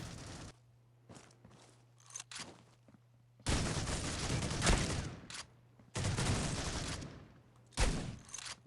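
Bursts of gunfire from the mobile shooter game Critical Ops during a solo ranked match, with sharp clustered shots and longer loud volleys separated by quieter stretches with faint footsteps.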